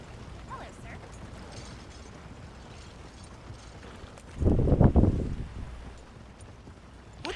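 A horse's hooves clip-clop in Red Dead Redemption 2, a short cluster of louder thuds about midway through over a quiet game ambience, with a voice speaking faintly nearby.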